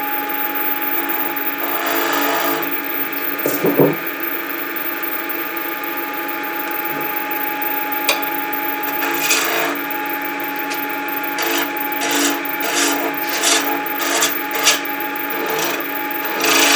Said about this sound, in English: Switch over to the scraper and move up the post a bit.